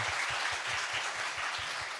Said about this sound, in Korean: 이분들에게 이제 한번 박수를 보내주시고요